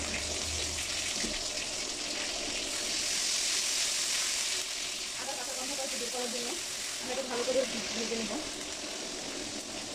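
Ginger and garlic paste sizzles in hot oil with a loud, steady bright hiss that eases after a few seconds, while a voice speaks over the later part.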